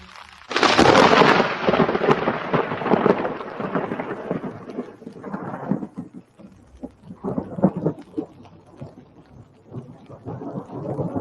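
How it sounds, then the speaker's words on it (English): Rainstorm with thunder, heard as a loud rumbling burst followed by rolling, fading thunder and rain hiss, then softer irregular crackles and rumbles later on. "It sounds just like a rainstorm video."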